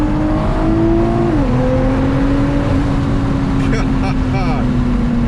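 A 750 hp 2017 Nissan GT-R running E85 roars hard under acceleration, its engine note climbing and dropping through quick gear shifts, loud and close from inside the car with turbo whooshes near the end.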